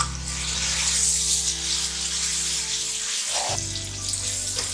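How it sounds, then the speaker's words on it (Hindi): Chicken frying in masala for murgh cholay, a steady broad hiss of sizzling oil with a low hum underneath, briefly dipping before carrying on. "मसाला भून गया है, अब हम इसके अंदर चिकन शामिल कर रहे हैं।"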